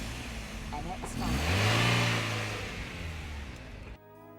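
A 1999 Mazda MX-5 roadster engine revs up and then eases back down, a rising then falling mid-pitched drone heard under narration before cutting off sharply.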